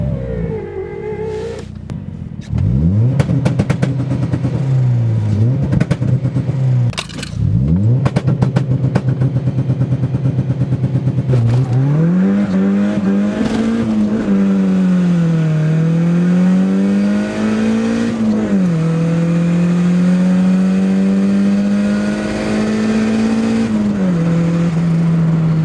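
Engine of a lightweight 900 kg car revving hard and close, repeated sharp throttle blips rising and falling, then sustained pulls with the pitch wavering up and down, loud throughout with no talking.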